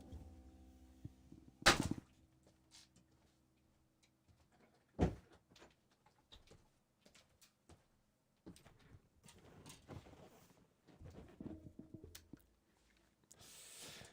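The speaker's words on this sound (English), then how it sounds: "I'm just going to close the studio door." A studio door closing, with a loud bang near two seconds, another sharp thud around five seconds, and scattered knocks and small handling clatters afterward in an otherwise quiet room.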